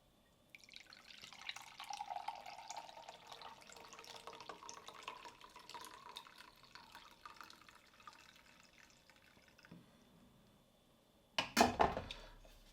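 Beet, carrot, apple and ginger juice pours steadily into a glass for several seconds, a soft trickling splash, ending with a brief louder clatter.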